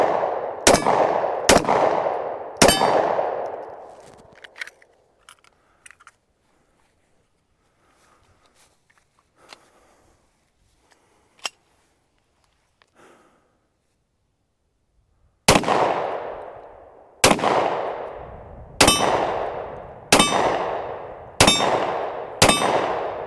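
Hi-Point 10mm JXP10 pistol fired at a shooting range: three loud, sharp reports with ringing decay, a quiet pause with faint handling noises, then six more shots in a steady, evenly spaced rhythm.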